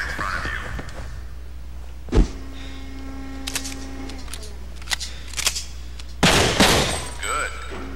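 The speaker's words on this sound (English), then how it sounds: "Now grab a clip and load the gun. First, try and shoot the screen in front of you." Gunshots fired at a screen in the Xbox game Breakdown: a loud sharp blast near the start, then a second burst of heavy shots later, with mechanical clicks and a ringing tone between them.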